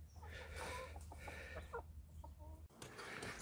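Young chickens at an allotment coop cluck quietly in short, repeated bursts, several soft calls close by against a low background hum.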